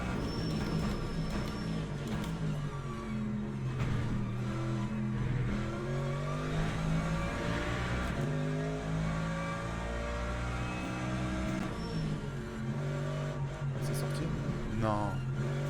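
A race car engine in a sim racing video game revs and climbs through the gears, rising and falling in pitch under steady game noise while someone speaks over it.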